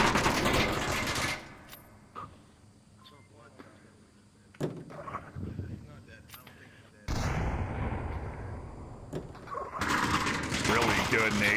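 Gunfire and grenade blasts in the VR shooter Onward during a competitive match: dense bursts of rifle fire and sharp explosive bangs, loud and close, with commentators talking throughout.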